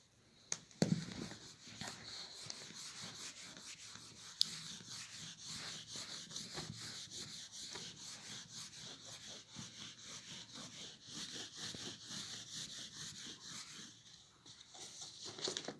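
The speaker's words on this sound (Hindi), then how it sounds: "अब मैं इसको रब कर लेता हूँ यहाँ पे" A board is wiped clean of writing with a steady run of scratchy, close rubbing strokes that repeat quickly and evenly for the whole stretch, with no voices.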